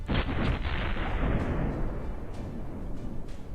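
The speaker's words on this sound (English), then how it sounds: "A firefight breaks out inside, then an explosion." A dull, rumbling explosion inside a ruined building during a firefight booms with a low, sustained roar, and a few sharp pops of gunfire crackle over it.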